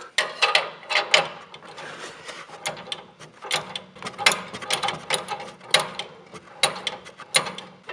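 A hand ratchet works exhaust bolts loose on a C8 Corvette, close and loud, with rapid clicking bursts repeating in uneven strokes throughout and no talking.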